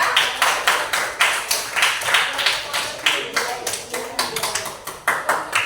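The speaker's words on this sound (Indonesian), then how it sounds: "tepuk tangan untuk kelompok 2" A classroom of people claps together, many hands striking in a quick, uneven patter that holds steady for several seconds.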